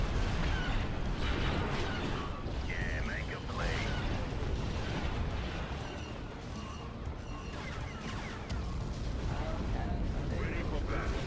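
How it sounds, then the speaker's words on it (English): Ion cannon in a sci-fi video game firing continuously in heavy, booming blasts, dense and loud throughout with crashing battle noise. "Ion cannon firing."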